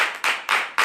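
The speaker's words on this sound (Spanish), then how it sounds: "Dale las palmas a Dios si la quieres." A church congregation claps hands in unison, three loud, sharp bursts of rhythmic clapping in under a second, close and without voices.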